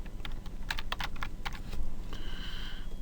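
Typing on a computer keyboard while entering words into Excel cells, a quick run of close, crisp key clicks followed by a brief pause and a few more taps, with no voice over it.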